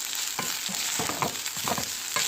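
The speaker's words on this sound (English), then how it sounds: "just keep stirring it until you've mixed all of the garlic and the onion up" Garlic and onion sizzle in butter in a frying pan while being stirred, with scraping strokes of a utensil and a steady crackle of frying, close and continuous with no voices.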